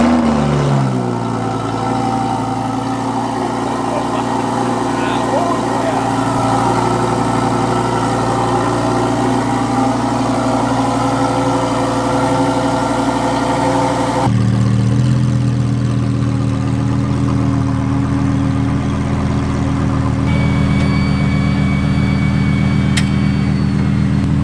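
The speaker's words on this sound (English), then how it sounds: "I need that NA V10 sound, and this thing is just badass." A naturally aspirated V10 engine of a 2020 Lamborghini Huracan EVO idles with a deep, steady rumble for a long stretch, then shifts to a higher, rougher tone partway through; no speech.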